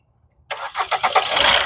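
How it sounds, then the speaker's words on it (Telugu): A 2017 Maruti Swift Dzire LDI diesel cranks briefly and fires on the first try, then settles into a loud, close, rough clattering idle after a moment of silence. "సింగిల్ సెల్ఫ్లో స్టార్ట్ అవుతుంది బండి అయితే."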